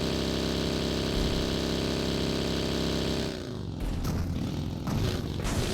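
A motorbike engine in a video game idles in a steady drone, then the tone drops away and gives way to uneven mechanical rumbling and clatter.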